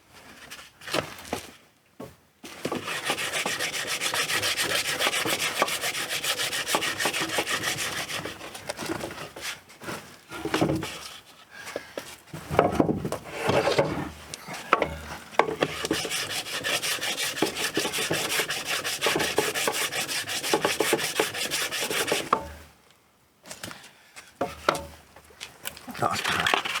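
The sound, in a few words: hand sanding a sailboat keel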